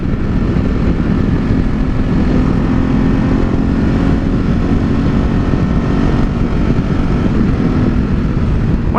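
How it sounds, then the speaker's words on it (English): A 2017 Ducati Multistrada 950 on a demo ride, its intake roaring steadily and loudly throughout, a dense continuous engine drone mixed with wind rush and no talking. "I love the noise that intake makes."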